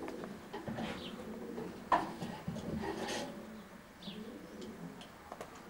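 Racing pigeons coo softly inside a loft nest box, low murmuring calls rising and falling over several seconds with a faint buzz of insects in the background.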